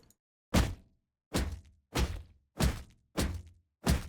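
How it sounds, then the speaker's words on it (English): Six dull, fleshy thumps land one after another at a steady pace, each a short soft impact with a slight rustle of fabric, close and isolated: a video game mouse character hit by an object. "sounds for the mice when they get hit by an object"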